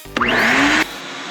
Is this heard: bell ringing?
no